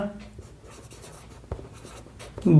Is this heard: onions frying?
no